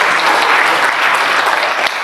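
Steady applause from an audience at the opening of a working meeting chaired by the acting mayor of Malang, dense and even for about two seconds with a brief dip near the end.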